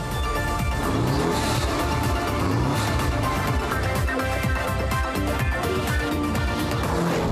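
A Porsche 718 Boxster S with a turbocharged four-cylinder engine drives on the road, its loud continuous engine note thick with rapid rhythmic pulses, close and sustained for about seven seconds.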